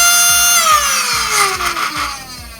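High-pitched flywheel motors of a foam dart blaster with a 3D-printed flywheel cage whine loudly, their tone sweeping as they spin up, with steady rhythmic thumping beneath.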